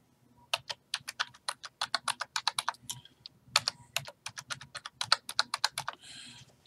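Someone types a short username on a computer keyboard: a quick run of crisp, close key clicks in uneven bursts with a small gap partway through, no voices.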